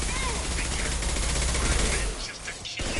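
Loud, dense bursts of concussive shot gunfire and combat noise in Mass Effect 2, sustained for most of the stretch before a brief dip, with shouted voices mixed in.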